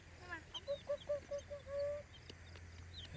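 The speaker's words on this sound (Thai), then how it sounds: "ไก่" Chickens cluck in a quick series of short calls, then one drawn-out note, fairly faint against a quiet outdoor background.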